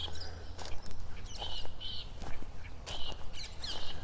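Birds call repeatedly outdoors over a steady low rumble, sharp chirps and squawks breaking through at intervals, moderately close and fairly loud.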